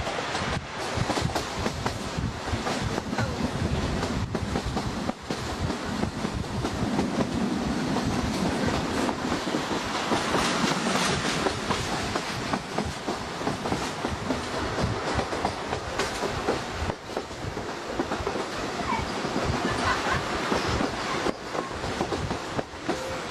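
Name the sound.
trains passing at a railway station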